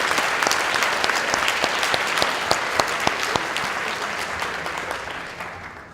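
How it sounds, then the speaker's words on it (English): Banquet crowd at a Georgia 4-H Congress leadership event applauding, dense and fairly loud clapping from many hands with sharp individual claps popping out, sustained throughout and fading slightly at the end. "Let's give them a round of applause"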